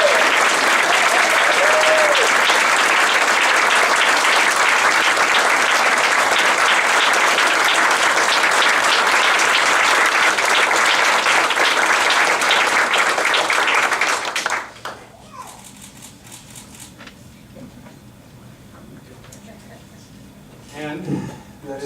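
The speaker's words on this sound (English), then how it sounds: "So one more big round of applause for all of" Loud, sustained applause from a school board meeting audience honoring teachers of the year, dense clapping for about fourteen seconds before cutting off to quiet room noise with faint voices.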